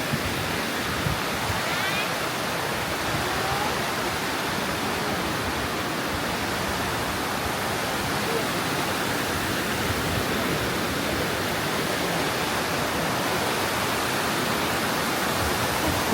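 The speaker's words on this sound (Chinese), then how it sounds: "都是这样的一个缓缓流下的瀑布" A wide waterfall flows gently among steep mountains, giving a continuous, even roar of rushing water that stays steady and close with no voices.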